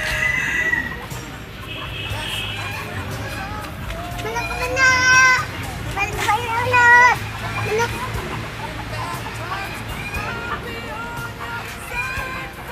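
Roosters crow repeatedly among clucking chickens at a mini zoo, loud and fairly close, with several drawn-out crows in the middle, while children and adults talk and play nearby.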